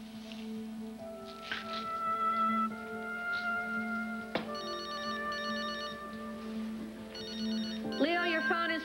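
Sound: telephone ringing

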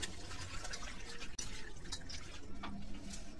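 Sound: washing hilsa fish under water

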